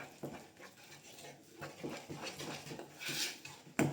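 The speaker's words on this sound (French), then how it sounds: "Et là on mélange bien." Donut batter being mixed in a salad bowl: quiet, uneven scraping and clinking of a utensil against the bowl, close by and soft, with brief knocks and a sharper tap at the end.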